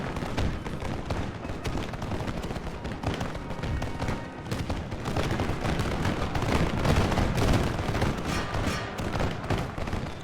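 Musket volleys rattle through a Total War Empire battle, dense overlapping cracks and booms blending into a continuous roar of massed gunfire, loud and unbroken.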